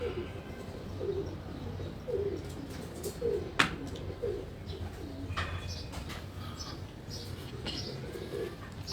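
Pigeons coo softly in a loft in repeated low, throaty calls at a moderate distance, with occasional chirps, a brief sharp knock, and quiet talking in the background.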